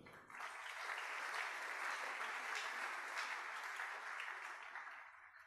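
A church congregation applauds the choir at a family worship service, a dense, even burst of clapping lasting several seconds before fading slightly at the end, heard from a moderate distance.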